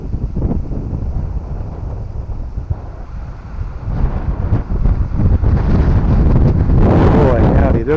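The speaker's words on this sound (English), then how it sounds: "You can see the wind whipping around the trees." Wind gusts through the trees of the Union Graham cemetery in Winfield, Kansas, buffeting the microphone with a rough, rumbling roar. The roar swells into a stronger, louder gust toward the end.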